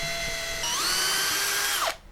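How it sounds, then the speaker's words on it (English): Small handheld power drill boring pilot holes in a workshop, a steady high whine that rises in pitch partway through, then cuts off sharply as the motor stops. "I'll start drilling the holes with a small drill first"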